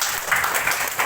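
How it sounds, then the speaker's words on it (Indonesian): Students in a classroom at a prayer-teaching practice session clap together in a short, even burst, loud and close, with no gaps. "Tepuk tangan untuk mereka."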